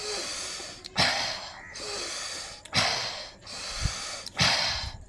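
Forceful nasal exhalations during a pranayama breathing exercise, four sharp snorting bursts at a steady rhythm, each followed by a quieter inhale, close and clear with no talk.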